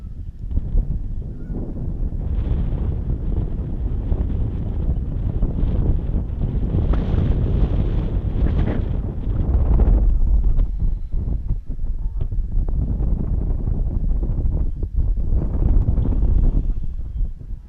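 Steady wind roars across the microphone beside a lake during an April fishing trip, a continuous loud buffeting rush that swells and gusts throughout with no voices.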